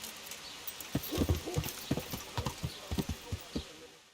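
Horse hooves clip-clop at a steady walking pace in the video game Kingdom Come: Deliverance, a dozen or so crisp, close hoof strikes on firm ground with no voices over them.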